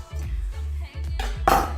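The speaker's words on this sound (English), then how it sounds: "Bring our chopping board up." A chopping board is set down and shifted on a kitchen counter, giving several close knocks and clatters, with a sharper clink near the end.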